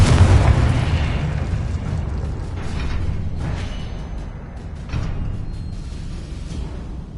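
Confringo blasting spell in a Harry Potter video game, a heavy booming explosion at the start that rumbles and fades, followed by softer echoing bursts and low crackling debris.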